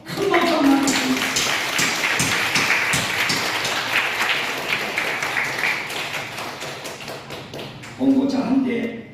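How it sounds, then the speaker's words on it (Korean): A church congregation claps for an engagement announcement, a loud broadband wash of hand claps and taps, with voices and murmuring rising at the start and again near the end. "큰 박수 한번 주십시오."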